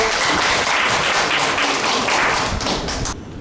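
An audience claps at a seminar, loud, dense, continuous applause with distinct claps, cutting off abruptly near the end.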